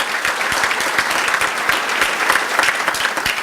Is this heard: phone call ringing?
no